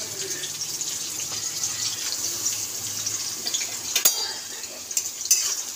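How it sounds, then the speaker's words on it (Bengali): Onions fry in hot oil with a continuous sizzle, and a spoon or utensil stirs and scrapes against the pan with several sharp clinks near the end. "তো পেঁয়াজটা একটু ভাজা ভাজা হোক"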